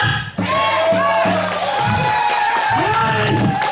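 A festival crowd at an oyster festival in Seolcheon, Namhae cheers and shouts with scattered clapping after a performance, loud and close, with voices rising and falling throughout.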